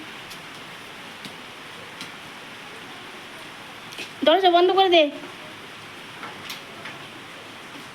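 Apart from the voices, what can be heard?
heavy rain pouring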